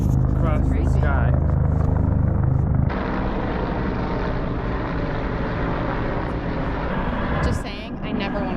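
Loud, steady rotor engine roar from three helicopters flying overhead, continuous throughout and easing slightly near the end.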